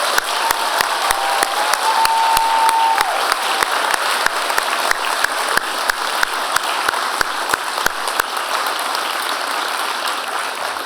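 Sustained applause from a large audience at a fall university convocation, honoring the graduates; steady dense clapping fills the space for the whole stretch, with a brief tone sounding faintly early on.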